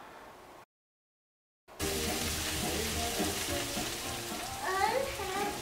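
Burger patties sizzling in a hot skillet, a dense, steady crackling hiss that cuts out for a second, then returns louder with occasional pops and spatters, close and continuous.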